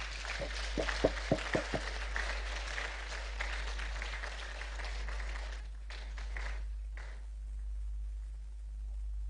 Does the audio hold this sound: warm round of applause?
yes